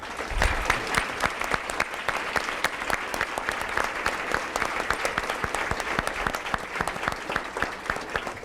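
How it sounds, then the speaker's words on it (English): Steady audience applause at a school board of education meeting, many hands clapping densely and evenly for several seconds, moderately distant with no voices over it. "And a round of applause"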